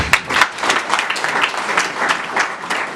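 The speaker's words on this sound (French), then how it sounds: "je vous demande de l'applaudir" An audience at a political gathering applauds, producing dense, loud, continuous clapping with scattered sharper claps throughout.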